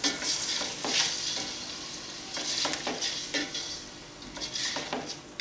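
Chicken pieces and masoor dal frying lightly in a pot for murgh choley, a steady close sizzle broken by repeated scraping stirs throughout, with no talking.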